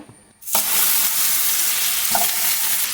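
Sugar melting in a pan for a buttered jackfruit cake, starting quiet, then a sudden loud sizzle that swells and holds steady, with a brief clink partway through and no speech.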